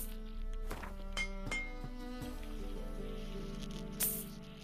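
Seashells being dismantled in The Witcher 3 video game, a few quick clinks and soft crunches over a sustained musical background.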